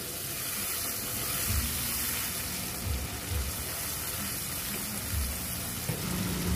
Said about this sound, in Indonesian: Kita tumis sambalnya sampai dia benar-benar mateng